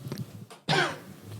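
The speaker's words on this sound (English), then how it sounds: "I got a little cough" A single sharp cough from one person, close and fairly loud, following brief low background noise and then trailing off.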